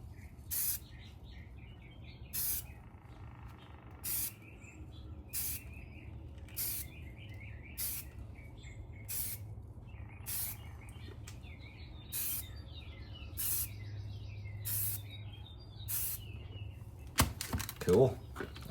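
Short, evenly spaced hisses of a spray can laying flat deep frost green paint onto an AR rifle, about a dozen bursts close by, with birds chirping faintly in the background.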